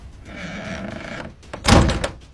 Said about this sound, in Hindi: दरवाजा बंद हुआ, धड़ाम